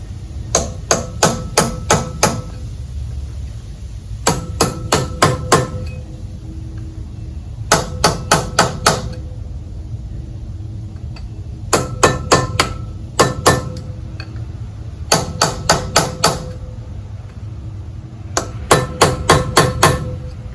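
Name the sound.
hammer tapping a seized 1954 Gale Buccaneer outboard powerhead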